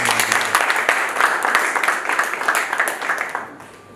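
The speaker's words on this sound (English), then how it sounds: "Another hand of applause for them." An audience at a youth fellowship ceremony in Yaoundé claps steadily in a dense patter of many hands, then fades toward the end.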